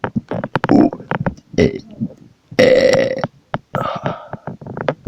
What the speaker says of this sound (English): I know the burps are a lot.